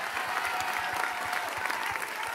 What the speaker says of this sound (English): I'll be clapping my hands.